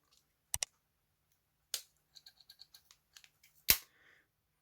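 The scissors of a Victorinox Climber Lite pocket knife are opened, giving sharp metallic clicks, a string of light ticking snaps, and a final loud click, close and isolated against silence.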